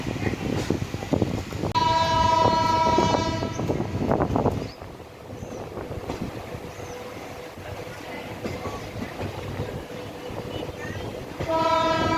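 A fast passenger train, Bhavnagar Terminus to Veraval No. 09566, rumbles past loudly as its horn blares for a few seconds, then the rolling rumble continues before another short horn blast.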